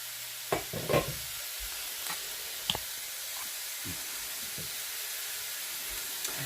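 Brined chicken pieces sizzle as they fry in a pan, a steady bright hiss broken by a few sharp pops and crackles, with no talking.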